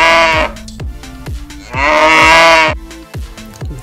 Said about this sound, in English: do you know what sound a cow makes?